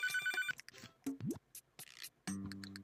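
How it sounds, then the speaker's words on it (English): A phone rings in the Papa's Freezeria Deluxe video game: bright electronic ringtone bursts open and close the passage, with clicks and short game effects in between, and no talking. "there's a phone call that needs attention right now"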